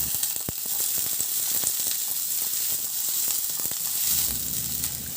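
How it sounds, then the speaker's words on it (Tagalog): Garlic and onion sauté in hot oil in a pan, a dense, even sizzle with small popping crackles running throughout, heard up close without voices. "Magpainit muna ako ng mantika sa kawali at igisa ko na rin yung bawang."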